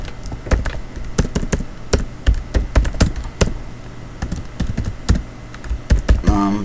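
C++ code is typed on a computer keyboard in irregular bursts of crisp, close keystrokes, with short pauses between runs of clicks.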